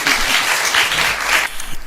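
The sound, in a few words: applause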